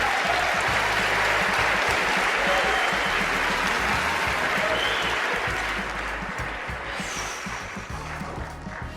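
Audience applause and laughter at the Screen Actors Guild Awards, a dense, loud wash of clapping from a large crowd that holds steady, then eases slightly near the end.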